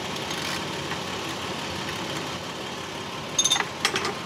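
A second-generation Toyota Tacoma truck engine idling steadily, a constant low hum with a few sharp clicks near the end.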